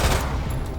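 Gunfire in Resident Evil 2 Remake, shooting attacking dogs in HUNK's 4th Survivor mode, a brief loud dense burst of game gunshots, no talking.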